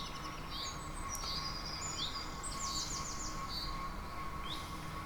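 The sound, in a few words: generic bird song sound file on model railway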